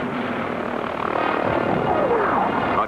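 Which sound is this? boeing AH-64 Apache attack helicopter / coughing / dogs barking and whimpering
boeing AH-64 Apache attack helicopter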